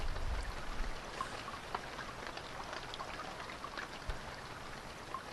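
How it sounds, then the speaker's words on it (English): Steady rain falls in a video game scene, a dense even patter of drops with scattered sharper splashes, close and continuous with no talk. "Something that will never stop, an endless rain."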